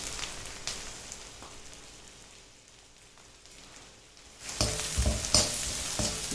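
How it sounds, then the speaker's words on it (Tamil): Onions added to melted butter in a pan while cooking palak paneer, a soft hiss at first that swells into louder, close sizzling and frying crackle partway through, with no talk. "இப்போ வெங்காயத்தை சேர்த்துடலாம்."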